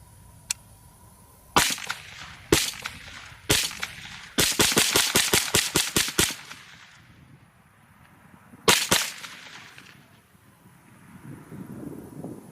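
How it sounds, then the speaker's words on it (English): Sig MPX 9mm pistol-caliber competition rifle fired outdoors at 20 yards: sharp single shots, then a fast string of about ten rapid shots, a couple more, with wind noise in between. "Ammunition just goes way too fast in this rifle."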